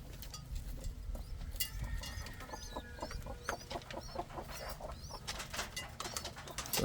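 Indian fantail pigeons at feeding time make a steady, moderately close flock chatter, with clucky calls and short chirps repeating throughout and no talking.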